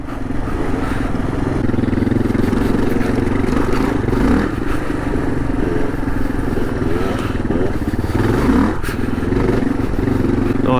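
A Kawasaki KLR650 motorcycle ridden through a sandy section, its engine roaring loudly and continuously close by, with surges of revving, clattering and scraping over uneven ground.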